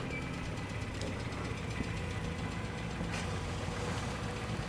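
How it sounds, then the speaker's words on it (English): A vintage Mini Cooper engine idles in a driveway, a faint, rough, steady running rumble heard from a short distance. "Mauricio's dad starts up the engine of the vintage Mini Cooper sitting in the driveway."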